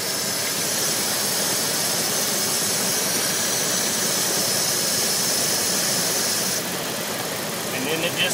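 Car engine idling roughly with a steady, continuous drone and hiss throughout, heard up close from under the hood, with a faint voice in the background.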